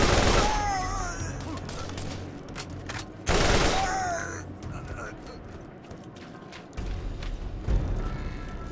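Rapid bursts of gunfire from Ajax's Spear combat rifle in Borderlands 1, short loud volleys separated by quieter gaps, with game sound effects and a voice talking over parts of it.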